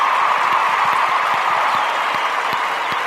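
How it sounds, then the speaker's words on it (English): Crowd applause at a USC Trojans football game after a 29-10 victory, a steady dense wash of clapping filling the whole stretch with no pauses or voices. "We'll give him some applause."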